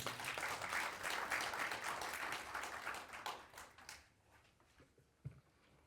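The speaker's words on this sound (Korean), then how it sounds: "박수 한번 치시죠" Audience applause at an expanded heads-of-agencies meeting, a dense round of clapping that carries on for about four seconds and then fades out, leaving quiet room sounds.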